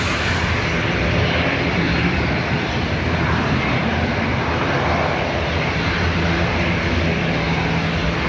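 An ATR turboprop departs Dublin Airport for Manchester, a loud, sustained engine drone with a low rumbling throb that stays fairly close and steady throughout, no voices over it.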